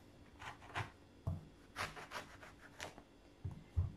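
A knife slowly cuts through thick pomelo peel in a run of quiet, close rasping strokes, each a short scraping rub with small gaps between, faint and with no voices.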